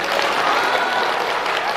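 Audience at a Deyunshe crosstalk comedy performance breaks into a steady, dense round of clapping that stays evenly loud throughout, with no speech over it.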